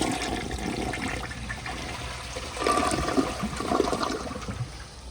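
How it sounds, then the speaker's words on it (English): Flush of a 1999 Mansfield Aegean toilet with a leaky, constantly refilling tank: a continuous rushing gurgle of water that swells louder midway, heard close up with no voices. "But here is another flush once the tank stops filling."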